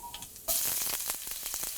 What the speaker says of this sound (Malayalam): വെളിച്ചെണ്ണ നന്നായിട്ട് ചൂടായി കഴിയുമ്പോൾ ഇതിലോട്ട് നമ്മൾ എടുത്തു വച്ചിരിക്കുന്ന കടുകിട്ട് പൊട്ടിക്കുക.